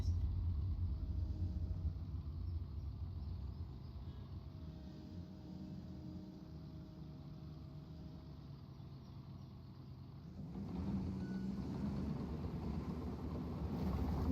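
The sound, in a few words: car engine in the video game Construction Simulator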